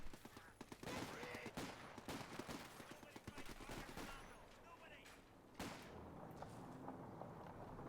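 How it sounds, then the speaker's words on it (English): Machine-gun fire from a .50 cal in the Company of Heroes 2 strategy game, rapid rattling bursts mixed with distant explosions and battle noise, running continuously under a commentator's voice. "I can just hear that 50 cal firing away here"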